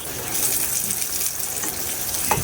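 Garlic and onion sautéing in a pan, a steady close hiss of frying with a faint soft clink near the end.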